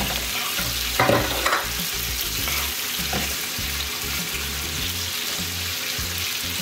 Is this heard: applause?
no